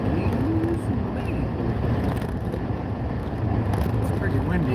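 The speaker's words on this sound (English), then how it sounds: "It's pretty windy." Steady wind rumbles and buffets the microphone throughout, with a person talking over it and a low engine-like drone underneath.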